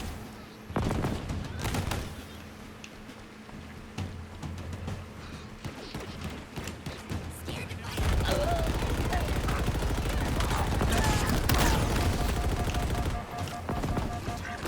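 Rapid bursts of gunfire from a Halo Infinite firefight, sharp shots stacking into dense volleys that grow louder and busier in the second half, with faint talk underneath.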